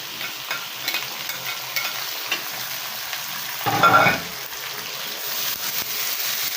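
Shredded leftover pork humba sautés in a wok over a gas flame with a continuous close sizzle and light stirring, swelling into a louder hissing burst midway.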